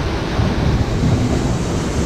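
A water-powered wheel turning at the Segovia Royal Mint, heard as a steady, loud rush of churning water with a broad rumble and no break.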